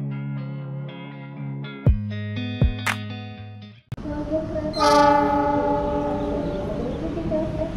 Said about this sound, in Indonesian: Dari arah utara masuk di jalur 3 Stasiun Gambir kereta api Argo Dwi Pangga